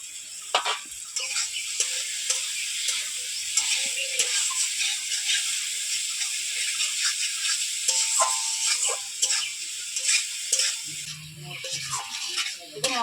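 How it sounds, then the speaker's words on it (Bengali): Fried potatoes are stirred into an oily spice masala in a pan while cooking a pangas fish curry. A continuous soft sizzle mixes with scraping stirs and light clatter, and a voice speaks at times. "মশলার সঙ্গে আলু দিয়ে কিছুক্ষণ নাড়াচাড়া করে নিয়েছি"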